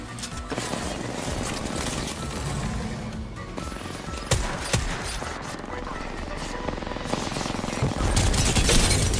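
Rapid automatic Havoc rifle bursts in Apex Legends, dense overlapping gunfire with sharp cracks and booms over a busy battle soundscape, loud and continuous with heavier shots near the end.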